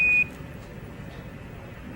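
A spacecraft alarm during a NASA mission sounds as a short, high electronic beep at the start, then cuts off, leaving a faint hiss of radio static.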